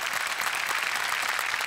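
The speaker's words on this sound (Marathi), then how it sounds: "जोरदार टाळ्या मॅमसाठी." Audience applauding an actress welcomed on stage at a Marathi comedy show, a dense, steady wash of many hands clapping throughout, fairly even in loudness with no voices standing out.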